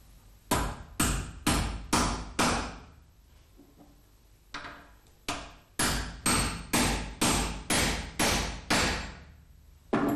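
A hammer drives a bearing bush into the yoke of a Walterscheid clutch with a run of about fifteen sharp, ringing metallic blows in two bursts, evenly spaced and close, with a short pause between the bursts.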